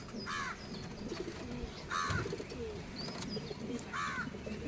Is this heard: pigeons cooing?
yes